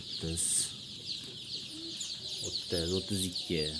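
Black chicks of the Andijan breed in a warm brooding room peep continuously in a high, dense chorus, with clucking bursts from nearby birds and someone talking over them.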